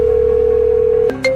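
A phone tone sounds loud and steady as a single held pitch for about a second, then breaks into a short electronic chirp and a new tone, like an incoming call alert.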